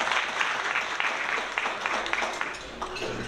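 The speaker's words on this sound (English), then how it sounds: "I think we should give it an applause" Audience applause at a roundtable forum on African renaissance and self-reliance, a dense, steady clapping from a gathered crowd, moderately loud and continuous.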